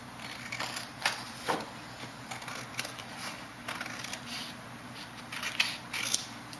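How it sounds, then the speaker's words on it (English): Scissors trim a paper color-palette sheet with a gray scale and color wheel, a run of faint, close snips and crisp paper cuts in an irregular rhythm, quiet and alone. "I will want you to trim this off."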